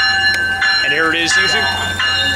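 A Metrolink train led by locomotive 690 passes with a loud rumble, ringing bell and sustained horn tones, while a voice speaks excitedly over it.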